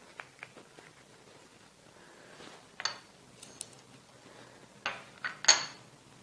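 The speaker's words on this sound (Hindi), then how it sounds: "इसमें सारी चीज़ें मिक्स कर दें।" Ingredients for ground qorma masala being stirred together in a pot, giving sparse, quiet clinks and scrapes of a utensil against metal, with a few sharper knocks near the end and no talk.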